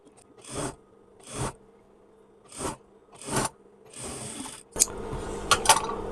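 A sewing machine stitches a strip onto salwar cloth in several short bursts of rapid, rattling stitching, close up, with brief pauses between runs and fabric rustling near the end.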